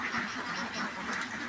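Domestic ducks quacking at a bathing tank fed by pipes, a steady stream of overlapping nasal calls, fairly faint and somewhat distant, with no speech.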